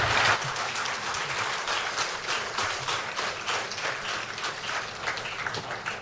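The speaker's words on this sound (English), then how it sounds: "give Mr. President another round of applause" Sustained applause from a large crowd, dense steady clapping filling the space, with no voices.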